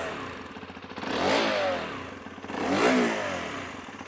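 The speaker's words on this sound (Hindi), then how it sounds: "आप इसका एग्जॉस्ट नोट सुनिए अब कितना प्यारा है" A Hero XPulse 210 motorcycle exhaust idles with a steady putter, then gets two throttle blips that swell and fall back, each revving up loudly and close before settling to idle.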